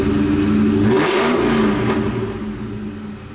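A car engine revs after a new pulley install, a loud, close roar that rises and falls through a couple of throttle blips, then settles and fades slightly toward idle.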